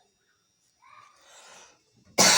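A cough from a person with a cold, a brief breathy throat rasp followed by one sharp, loud close cough at the end.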